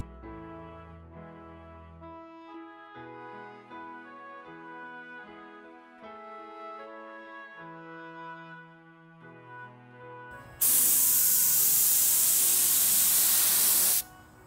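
Background music plays for about ten seconds, then a paint spray gun coating a wooden dresser bursts in with a loud, steady airy hiss that runs for several seconds before cutting off.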